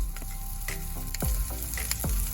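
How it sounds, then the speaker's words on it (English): Lion's mane mushroom fries slowly in oil in a skillet, giving a steady close sizzle with a few louder scraping clicks and sweeps from stirring, with no voices. "slowly cooked in that oil"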